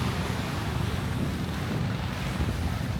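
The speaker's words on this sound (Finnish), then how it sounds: "Hieman tuulista." Strong wind blows on a white-sand beach at Koh Lipe, Thailand, a dense, steady rumbling roar buffeting the microphone throughout, with no voices.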